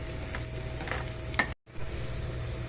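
Beetroot frying in a pan gives a steady, moderate sizzle with a few stirring scrapes, heard close and alone, cut by a brief silent gap midway.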